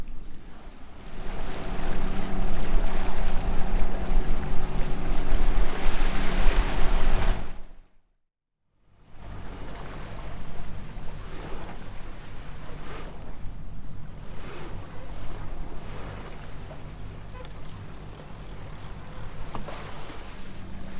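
A sailboat clips along through calm, foggy sea, giving a steady rushing wash of water and wind noise that briefly drops out, then resumes at a slightly lower level.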